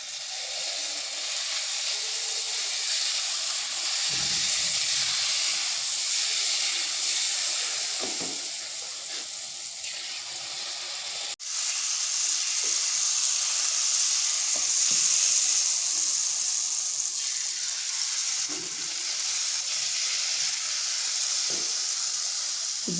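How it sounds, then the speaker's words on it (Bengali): Jalebi batter frying in hot oil, a steady, close, broadband sizzle and hiss that runs unbroken throughout with slight swells as fresh batter hits the oil; no voices. "এবার জিলিপিগুলো ভেজে নেব।"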